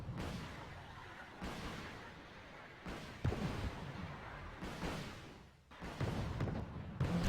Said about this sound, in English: The exchange of fire continue, but none of my missiles actually managed to pierce through so far.